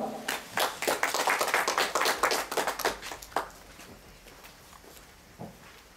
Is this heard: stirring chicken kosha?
no